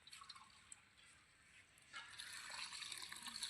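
Rice-washing water poured into a pot of chicken curry, a soft liquid trickle and splash that grows fuller and steadier in the second half, faint and close with no talk.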